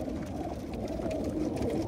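Racing pigeons in a loft coo softly before a road training race, a low continuous murmur of birds close by with no voices over it.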